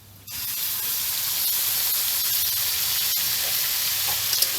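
Freshly ground paste of cumin, ginger, chili, garlic and onion hits hot oil with a sudden sharp burst, then settles into a loud, steady close sizzle with faint scrapes near the end.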